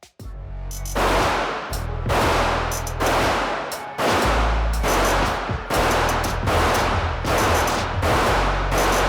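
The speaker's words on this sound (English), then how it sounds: "We're gonna shoot some rounds through it" Loud Walther PDP pistol shots fired at a shooting range, about eight sharp reports spaced roughly a second apart, each followed by a booming echo tail, with no talking.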